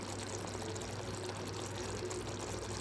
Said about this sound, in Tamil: கொஞ்சமாக நல்லெண்ணெய் சேர்த்துக்கலாம் லாஸ்ட்டு.